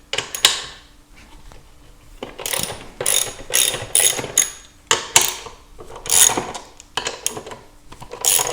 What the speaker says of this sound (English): We need to remove these 4 bolts. That's with an M12. You can use a wrench or a ratchet.